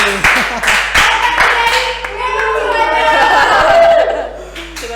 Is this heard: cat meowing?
no